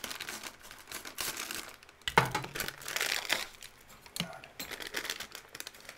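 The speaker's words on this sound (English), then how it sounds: "tear pouch at notch" A US MRE cheese tortellini pouch is torn and crinkled open: a sharp rip near the two-second mark, followed by steady plastic crumpling and crackling, close and fairly loud, with no talking.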